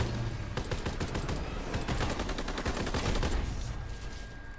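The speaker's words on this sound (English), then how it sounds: "This machine gun I just got is the new Mauler." The Mauler machine gun in Call of Duty WW2 fires sustained rapid bursts at close range, with dense rattling shots and a few short pauses, all fairly quiet.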